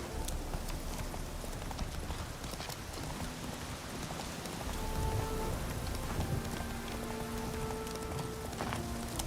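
Geralt's horse Roach from The Witcher 3 trots with a steady patter of hooves under heavy rain, moderately loud and close, while faint sustained tones drift in later; no one speaks.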